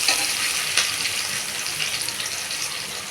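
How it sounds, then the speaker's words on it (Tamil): Onion, garlic, ginger, green chili and mint leaves sauté in a pan for tomato rice, giving a loud dense hiss that stays steady, with a brief stir clatter near the start. "இது நல்லா வதங்கணும். வெங்காயம், பூண்டு, இஞ்சி, பச்சை மிளகாய் போட்டோம். இப்போ புதினா போட்டுக்கலாம்."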